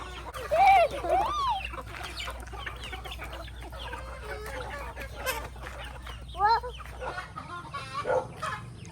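Native chickens cluck and call while feeding on a farm, with several loud clucks near the start and more scattered calls later over steady background noise.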